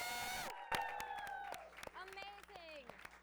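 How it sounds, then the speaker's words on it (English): A studio audience at a comedy talk show applauds the writers with scattered sharp claps mixed with whoops and whistling cheers, lively and close. "Can I get a round of applause for our"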